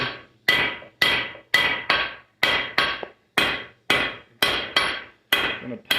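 Hammer blows on hot steel at an anvil while forging a miner's candle holder, about a dozen loud, ringing strikes in an even, steady rhythm, each decaying quickly before the next.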